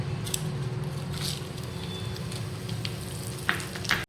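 Whole spices tempering in hot oil after eggs were fried, cooking for an egg korma, giving a steady close sizzle with a few brief louder crackles near the end and no talk.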